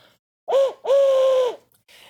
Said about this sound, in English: I also have a few whistles that are pretty much atonal, like this one sort of sounds like an owl.